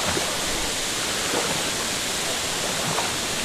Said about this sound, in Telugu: మనం జలపాతం పైన ఉన్నాము ఆల్మోస్ట్ జలపాతం పైన ఉన్నాము